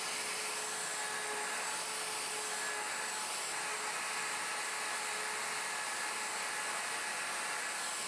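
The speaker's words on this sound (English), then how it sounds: "Lock the table and route the front right mortise." Plunge router cutting a mortise in a Leigh FMT jig, a steady high-pitched whine with hiss that runs evenly and fairly quietly throughout, with no talk.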